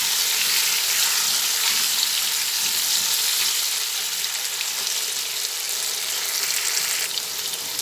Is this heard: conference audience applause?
no